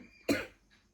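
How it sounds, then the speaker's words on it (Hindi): A single sharp cough bursts out close to the mic, then trails off into a short throaty tail and quiet. "खांसना आ गया अभी"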